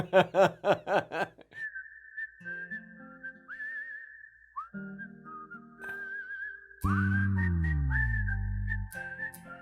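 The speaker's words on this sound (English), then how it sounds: "this whistle's gonna be stuck in my head." Someone whistles a melodic tune from the film Fanaa, a clear sustained line with bending pitches, preceded by bursts of laughter and accompanied by soft low background tones, fairly close and quiet.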